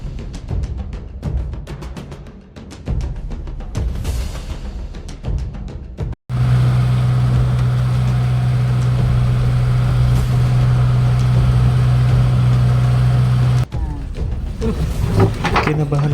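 Stalled outboard engine on a passenger boat at sea between Tapilon Port and Carnasa Island, Cebu, pulled repeatedly until it catches, then a loud, steady engine drone that holds for several seconds before cutting off.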